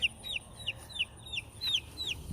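A hen in a chicken coop makes a quick run of short, chirpy clucks at an even pace, fairly faint and close, over low background noise.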